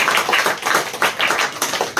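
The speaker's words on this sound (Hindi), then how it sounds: "तालियां बजा दीजिए मुझे" Applause from a classroom audience at a talk on stress, HIV and time management: steady, dense clapping that fills the short clip at an even level, with no voices over it.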